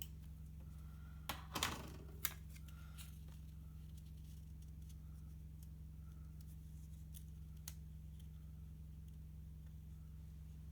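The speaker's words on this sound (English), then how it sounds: "I tend to use my Tombow correction tape to white out the edges" Tombow correction tape is run along paper edges, giving a faint scratchy rasp and a few soft clicks early on, then near silence over a low steady hum.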